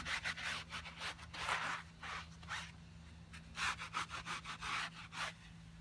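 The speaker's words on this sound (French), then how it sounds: "un petit peu de produit, on fait mousser, et là on vient nettoyer le pneu" A sponge with foaming cleaning product scrubs a car tire in quick rhythmic strokes, close and fairly loud, a series of short rasping bursts with brief pauses between them.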